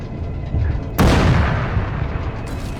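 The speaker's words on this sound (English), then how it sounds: "As you can see, an anti-tank missile is coming. We just evaded it." An anti-tank missile in the Arma 3 video game arrives as a sudden loud boom that rolls away into a long rumbling decay over low background noise.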